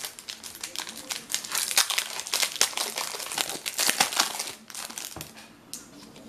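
Someone tears open a WWE Slam Attax 2020 trading card booster pack, producing dense, loud foil crinkling and crumpling close by, steady for several seconds before easing off.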